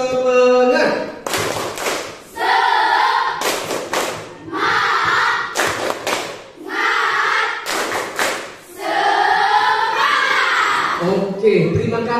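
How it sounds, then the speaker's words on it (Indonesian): A standing group in a classroom lesson performs a rhythmic spirit clap (tepuk semangat), with loud bursts of clapping in patterned sets alternating with chanted voices, close and energetic. "Kita dengan tepuk semangat semuanya berdiri, ayo 1, 2, 3 tepuk semangat."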